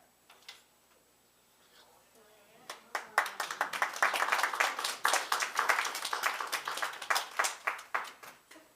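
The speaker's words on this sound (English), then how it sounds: "just know that applause is always welcome" At a live improv theater show, a quiet moment with faint sounds gives way to a small audience breaking into brisk, uneven clapping that rises quickly and keeps going, fairly close and lively.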